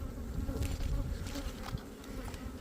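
Honey bees buzz in a dense, steady drone while a beehive is opened for inspection, the swarm sound close and continuous with no talking.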